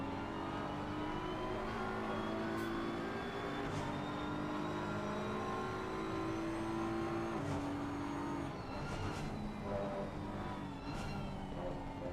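Race car engines of a Porsche and a BMW in an endurance video game race at Imola whine through rising gear pulls and shifts, a steady, fairly quiet layered drone with no talking.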